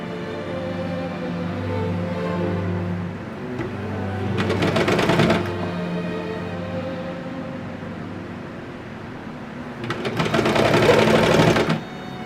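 Sewing machine running in two loud bursts of rapid stitching along a quarter-inch seam on a kids' raglan T-shirt, with a steady hum and quieter handling between runs.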